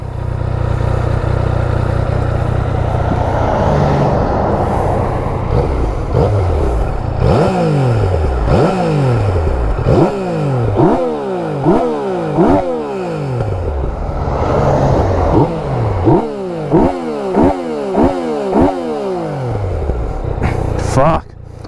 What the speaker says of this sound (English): This is just a stock standard exhaust, and here at idling